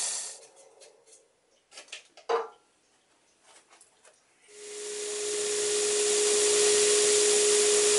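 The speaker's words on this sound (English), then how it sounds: "we're back on the lathe, and what I'm doing here is I'm trying to make a recess where the dial is going to mount in the ring." Sanding a recess into maple wood on a lathe, beginning with a few quiet clicks and knocks, then a steady loud rushing hiss with a constant hum that builds and holds to the end.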